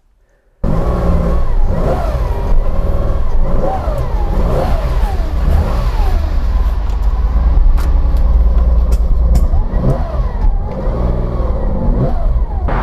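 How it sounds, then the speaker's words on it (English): A Porsche 914-6 six-cylinder engine revs loudly and repeatedly close by, rising and falling through several throttle blips over a steady idle rumble. "There's nothing like the sound of a 6-cylinder."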